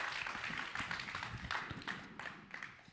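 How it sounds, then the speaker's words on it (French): Audience applause at a Ma thèse en 180 secondes science-communication final, a dense burst of clapping from a crowd that swells and then gradually thins out over a few seconds. "on peut l'applaudir encore bien fort s'il vous plaît"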